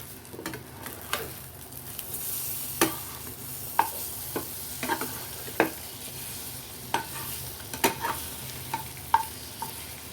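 A flipped egg frying in a pan gives a soft, steady sizzle close by, broken by scattered sharp ticks and pops of a spatula or spitting oil, with no voices.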